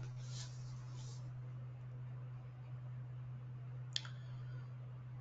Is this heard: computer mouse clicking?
yes